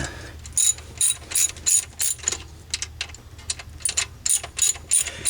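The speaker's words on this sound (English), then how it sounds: "now get my socket set up and I can take this" A socket wrench ratchets in quick bursts during alternator replacement on a Toyota T100 pickup, with rapid clicking strokes repeating at a steady rhythm close to the listener, alone without speech.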